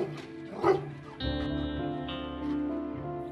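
A big dog in a rural village barks once loudly at a passing motorcycle, then a sustained growling, whining vocalization follows, close by with a droning background hum.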